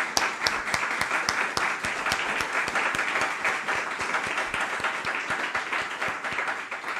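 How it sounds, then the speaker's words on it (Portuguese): Audience applause at a political party election rally, sustained even clapping from a crowd with sharp individual claps standing out near the front, continuing without pause or speech. "A quem peço já uma grande salva de palmas para a nossa Sandra"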